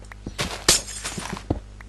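Glass blocks breaking in Minecraft during a survival build: a few short crunchy smashes with sharp clinks, the loudest burst near the middle, set over a low game background hum.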